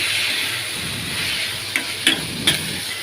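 Chopped tomatoes for Rayalaseema-style uggani hiss softly in a hot frying pan, a steady sizzle broken near the end by three short scraping strokes of a spoon against the metal, close by, with no speech.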